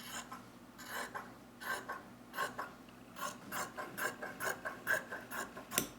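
Fabric strips 1 1/4 inches wide being cut for mask ties, giving a steady run of short crisp snips and rasping scissor or rotary-cutter strokes, close and fairly quiet, with no talking.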